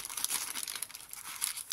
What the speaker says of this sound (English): This is greaseproof paper that I've coffee dyed, and it's really crunchy.